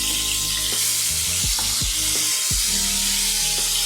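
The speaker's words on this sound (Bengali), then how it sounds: "এই মাছগুলি আমি ভেজে নিই।" Fish sizzles steadily in hot mustard oil in a kadai, a loud, continuous close-up frying hiss with no voices.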